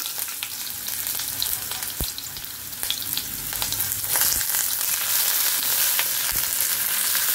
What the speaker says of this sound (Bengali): পেঁয়াজগুলোকে একটু গোল্ডেন করে ভাজতে হবে।